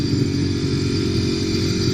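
A 2016 Ducati Monster 821 motorcycle engine runs at a steady idle, a loud, dense, continuous rumble close by with no voices over it.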